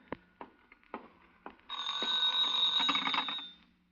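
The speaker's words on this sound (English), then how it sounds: "That's the phone." An old-fashioned telephone bell rings in a long, loud continuous trill lasting nearly two seconds, preceded by a few sharp knocks and clicks in an otherwise quiet room, with no voices.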